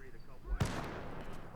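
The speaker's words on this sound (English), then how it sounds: "That went too far, those grenades." A grenade blowing up in the WW2 Spearhead 1944 campaign for the Arma 3 video game: a single heavy, close blast that decays into a long rumbling tail with scattered debris, after a low thud beforehand.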